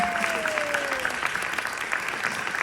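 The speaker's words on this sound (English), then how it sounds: "Please, another round of applause for our panelists." Audience applause for youth panelists at the Ocean Summit in Aarhus, Denmark, steady moderate clapping from a crowd, with a brief tone sliding downward at the start.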